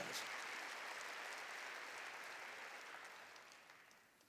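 Church congregation applauding together at a Korean Jesus-centered church service, a dense steady wash of clapping that fades slightly toward the end, with no talk over it.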